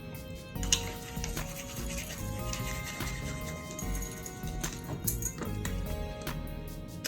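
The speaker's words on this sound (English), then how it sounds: "Y'all see I gotta use this travel toothbrush?" Close-up scratchy, rhythmic scrubbing of teeth being brushed with a small travel toothbrush, quick back-and-forth strokes repeating steadily with faint clicks of the brush against teeth.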